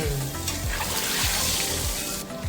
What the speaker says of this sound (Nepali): अब अन्डालाई अब त्यहाँ राम्रो रातो नहुन्जेलसम्म फ्राई गर्ने